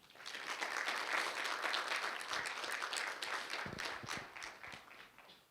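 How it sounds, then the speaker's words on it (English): A school audience claps for a student of the month in a classroom or assembly, a dense, fairly quiet round of applause that swells, holds, then thins out. "Let's give her a big round of applause."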